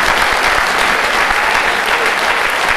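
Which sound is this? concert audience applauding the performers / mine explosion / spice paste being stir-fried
concert audience applauding the performers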